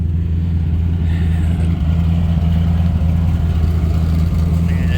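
A Ford F-150 pickup truck with a short exhaust idles with a deep, steady low rumble and a throaty exhaust note, close by and constant throughout.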